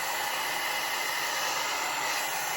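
A hair dryer blows steadily and quite loudly throughout, a constant broadband rushing whoosh with no pauses and no talking over it.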